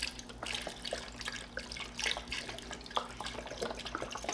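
Beef broth, 32 ounces of it, poured into a pot for corned beef and cabbage, a steady splashing, gurgling liquid stream with small drips, moderately close and alone without talk.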